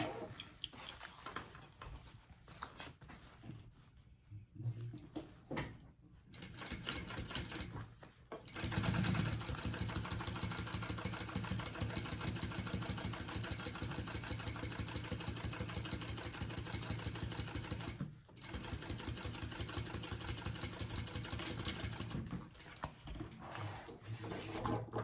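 A sewing machine top stitches a fabric bag, its motor running in a steady, quiet mechanical whir with a brief pause near the start before stitching continues evenly for a long stretch.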